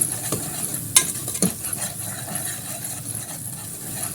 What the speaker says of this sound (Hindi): प्याज को मैं अच्छे से ब्राउन करूंगी।